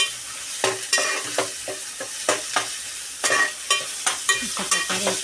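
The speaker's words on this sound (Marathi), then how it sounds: "तोही इथे परतून घेऊया।" Garlic sautéing in hot oil sizzles steadily while a utensil scrapes and stirs in quick, irregular strokes, loud and close, with no one talking.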